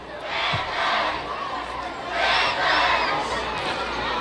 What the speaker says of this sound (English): Panther crowd getting pretty boisterous over there, pretty loud